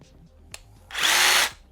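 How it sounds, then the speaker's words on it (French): A power jigsaw bursts into a loud, buzzing cut through plasterboard for about half a second, preceded by a few quiet clicks and handling sounds. "Donc là, je viens avec ma scie sauteuse."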